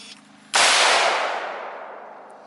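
A single loud, sharp AR-15 rifle shot cracks out at close range, then a long reverberant tail fades away over the next two seconds outdoors.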